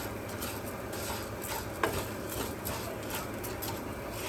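Ground beef browning in a pan with water added for gravy, giving a steady low sizzle under occasional stirring and utensil scrapes, close and fairly quiet.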